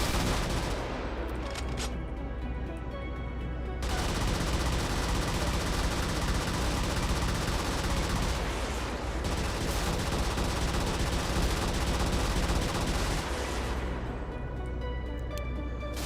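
Sustained gunfire from mech weapons in the Brigador video game, a dense, loud barrage of rapid shots and explosive bursts continuing throughout, with brief lulls near the start and end.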